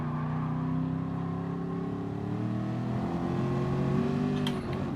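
A race car in Gran Turismo Sport brakes hard and downshifts, its engine tone droning steadily and then dipping and rising as the gears change, loud and close.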